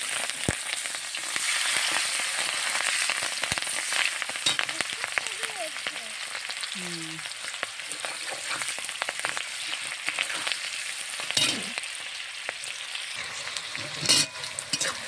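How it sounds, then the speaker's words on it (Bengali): Green beans frying in hot oil in a wok, a steady broadband sizzle and crackle that holds throughout, with occasional sharper spatters and stirring clatter, close and fairly loud. "বিনসগুলো আমার সুন্দর করে ভাজা হয়ে গেছে"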